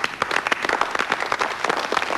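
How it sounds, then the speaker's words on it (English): A small group gives a round of applause, fairly close, with individual claps audible in a lively, uneven patter that carries steadily throughout. "I believe these gentlemen deserve a round of applause."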